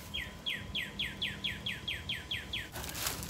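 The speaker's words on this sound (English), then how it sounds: "Now there's a baby bird." A baby bird gives a series of about ten clear, evenly spaced descending chirps, repeated roughly every quarter second, followed by a brief burst of broadband noise at the end.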